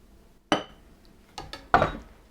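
A glass is set down and handled while a Frosty Canadian Pirate milkshake is poured, giving a sharp clink followed by two softer knocks and a louder clatter, all close and with no voices.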